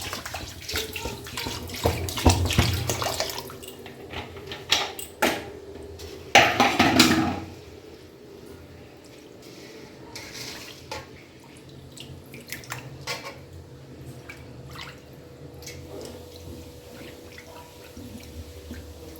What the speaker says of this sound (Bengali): এই চাল ধোয়ার জলটা আমি রেখে দেব